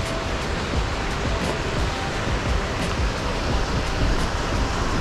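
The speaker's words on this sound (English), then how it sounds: "And I apologize if the wind is bad." Wind buffets a camera microphone beside a raging river, a steady broadband roar of gusts and rushing water filling the whole clip, loud and close with no pauses.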